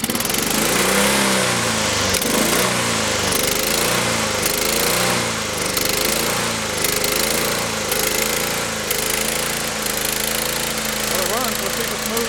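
Choked Honda Harmony II HRT 216 lawn mower engine running rough after starting, a loud uneven knocking chug that pulses steadily, with someone talking over it.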